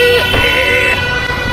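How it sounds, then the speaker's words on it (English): A car horn blares on an Indian street, a loud, sustained nasal honk held close amid road traffic rumble, with other vehicle noise underneath. "why you honk?"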